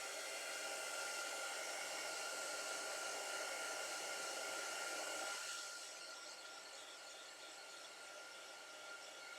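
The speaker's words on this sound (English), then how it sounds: "I think that needs a little bit more on the hairdryer." A hair dryer blows a steady, broad whooshing roar while drying paint on a model Hotspur troop-carrying glider, then drops partway through to a slightly lower, softer setting and keeps running.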